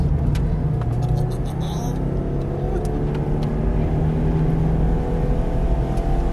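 A sports car engine drones steadily from inside the cabin on a racetrack during time trials, a loud constant rumble with road and wind noise, no clear revving.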